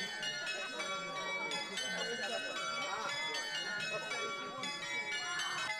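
Big tower bells peal at a town festival, several bells striking in overlapping rounds with a bright, ringing resonance that sustains continuously and loudly throughout.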